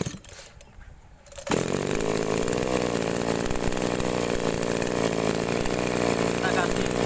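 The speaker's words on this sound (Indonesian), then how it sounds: "Kita coba naikkan RPM dari posisi atas." A small agricultural sprayer engine that would not rev up is throttled higher. After a quieter idle it jumps to a loud, steady, high-revving buzz that holds without letup.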